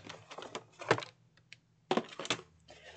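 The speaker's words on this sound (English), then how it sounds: "I am going to take my chipboard, and I am going to cut a piece at 5 1/8" A blade scoring and cutting through chipboard, with several short, close scraping strokes in two bursts separated by a brief pause.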